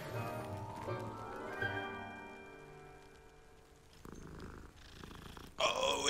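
A cat purrs while being petted in the video game Hogwarts Legacy, a soft continuous rumble running steadily under layered game music, with a sharper noisy burst near the end.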